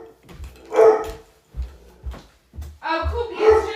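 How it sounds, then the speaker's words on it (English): A dog barks in short, sharp bursts indoors, several separate yaps and woofs spaced unevenly, fairly close, with a person talking between and around them. "Is my dog okay? Let me go see who's outside. Do you guys hear him?"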